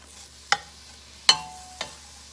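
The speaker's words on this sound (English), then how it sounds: "And then we're just going to stir these around until they get translucent." Vegetables being stirred in a pan to soften, three sharp utensil scrapes and clacks spaced apart over a quiet low sizzle, close by with no talking.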